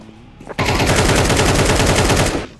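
Sustained automatic gunfire from a Counter-Strike 2 match, a loud, rapid, evenly spaced burst lasting about two seconds after a brief quiet start, ending abruptly.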